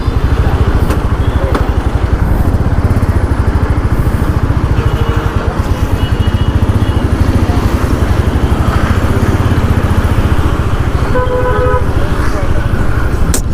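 A 2025 Royal Enfield Meteor 350 motorcycle starts and idles, its single-cylinder engine thumping in a loud, fast, steady beat close by, with a brief horn toot partway through.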